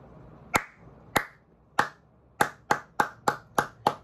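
Hand claps keeping time in a children's clapping rhyme, nine crisp, close claps, first spaced slowly and then coming faster and more evenly, with no voices.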